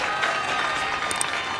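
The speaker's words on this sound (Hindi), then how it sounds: "एक बार ताली बजा दो अपने एमएलए के लिए सारे जने" An audience at a political rally applauds a local MLA, giving a short burst of dense, steady clapping from a crowd with some voices mixed in.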